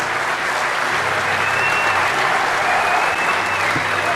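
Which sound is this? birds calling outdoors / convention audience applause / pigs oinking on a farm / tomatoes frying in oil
convention audience applause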